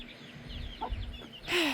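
A mother hen clucks in a backyard flock, a few soft clucks close by followed by a louder squawk, with faint peeping from chicks in the background.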